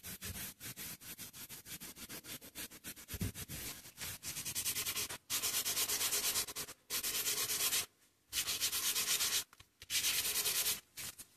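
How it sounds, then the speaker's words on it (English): Fine steel wool and sandpaper rub over the brass frame of a 1954 Grundig 2030W/3D radio, producing loud, close rasping strokes in repeated bursts separated by short pauses. "The brass frame was brushed initially with metal polish and fine steel wool, but later also with fine sandpaper."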